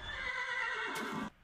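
A horse in Minecraft lets out a loud, drawn-out neigh lasting over a second, with a bright whinnying quality. The neigh breaks off abruptly, and no voices are heard.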